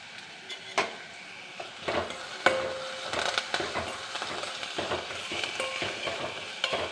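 Homegrown curry leaves sizzle and crackle in hot oil in a pan during the making of puttu upma, with frequent clinks and scrapes from stirring and faint frying hiss throughout.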